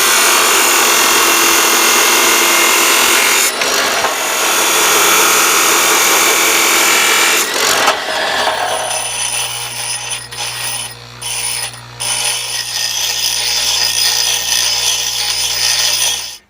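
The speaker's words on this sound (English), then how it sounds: "So we got to cut the ready rod off to 6 inch length" A power tool cuts threaded ready rod to length, a loud, harsh, steady grinding roar for about eight seconds that drops to a humming motor winding down with a few brief dips before stopping.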